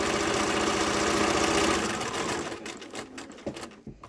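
A sewing machine stitches a fabric mask, a loud rapid needle rattle that runs steadily and then slows and stops, followed by scattered handling clicks and rustles.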